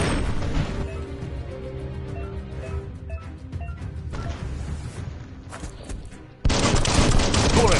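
Biomutant gunfire crackles in dense, rapid volleys under busy game sound and music, then jumps to a louder, sustained barrage near the end.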